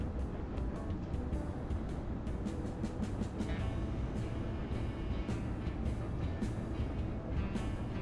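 Steady rumbling rail noise from trains running in the Railroad Corporation 2 video game, a dense continuous clatter with faint rhythmic ticks throughout and no voices.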